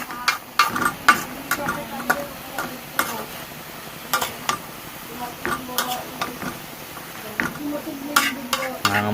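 Leftover vegetables, including radish and water spinach stems, being stir-fried in a pan, with continuous sizzling and frequent spatula scrapes and clatters against the pan, while a voice talks over it.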